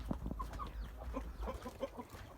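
Chickens cluck and murmur in short, scattered calls in a rice field at feeding time, fairly faint and close, with soft rustling and movement around them.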